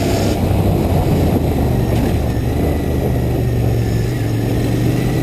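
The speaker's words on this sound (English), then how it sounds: "The engine is very torquey." Royal Enfield Continental GT 650 motorcycle engine droning steadily while being ridden, a constant low rumble with heavy wind buffeting throughout, no speech.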